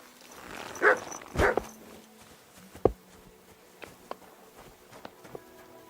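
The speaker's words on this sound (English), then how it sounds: "Good doggy, good boy." A dog in the medieval video game Kingdom Come Deliverance II gives two short barks close by, followed by scattered faint clicks and thuds over a quiet ambient background.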